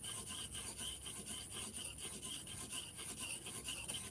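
A golok, a locally made Jepara outdoor bushcraft machete, is being sharpened on a whetstone. Steady rhythmic scraping strokes repeat close and alone, with no talk.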